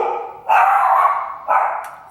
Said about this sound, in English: the dogs always go like crazy whenever we have someone ring the doorbell